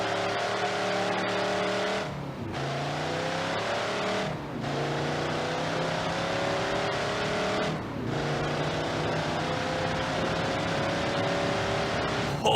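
A junkyard drag car in BeamNG.drive roars at full throttle with its tires spinning, a loud, steady engine drone whose pitch climbs through several gear changes, each shift marked by a brief dip, heard alone and up close.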